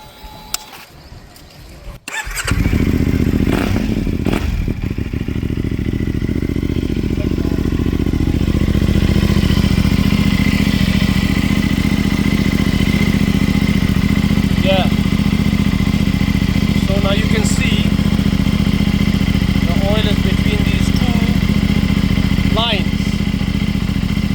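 A CFMoto MT450 motorcycle engine cranks and catches after a brief scuffle of handling noise, then settles into a steady, loud idle that runs close by to the end, with a few faint clicks over it.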